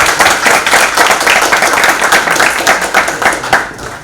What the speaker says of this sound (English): Let's give a round of applause to Dr. Ghosh